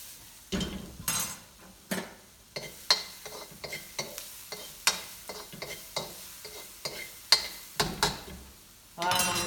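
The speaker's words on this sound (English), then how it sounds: "I'm going to throw my tofu in now, the satay tofu" Satay tofu frying in a pan for a vegan stir fry, with repeated scraping and clinking stirs over a steady sizzle, close and moderately loud, in irregular bursts.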